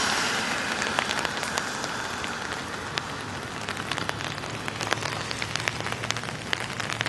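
Steady rain pattering on trees in a rainy outdoor spot where parrots shelter, a constant hiss of drops with scattered sharper drips and taps close by; no voices or clear bird calls stand out.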